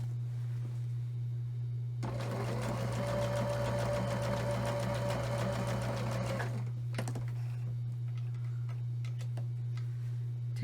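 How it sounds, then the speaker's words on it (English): A sewing machine stitches straight across quilt binding in a steady, fast mechanical whir lasting a few seconds, then stops, leaving a constant low hum. "I'm going to sew right across"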